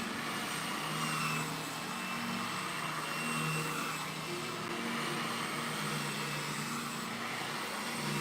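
Conair Infinity Pro hair dryer running, a steady close whirring blow with a constant high whine and hum, unbroken and even in loudness from start to finish.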